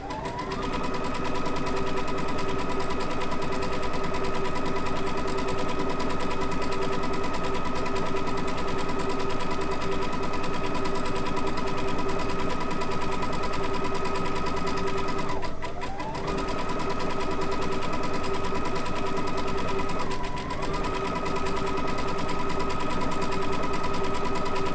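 A Baby Lock Altair sewing machine runs steadily with a circular sewing attachment, a loud continuous whirring hum with a constant motor pitch that dips briefly twice as the stitching slows before picking back up.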